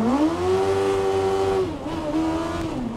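A Westfield Megabusa car engine revs hard and high, a loud bike-like whine holding steady before dropping briefly and climbing again close by.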